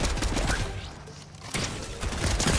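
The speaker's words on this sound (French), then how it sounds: "il fait qu'il me tire dessus" Enemy gunfire in a shooter video game, loud bursts of rapid shots at the start and again after a brief lull, with no talking.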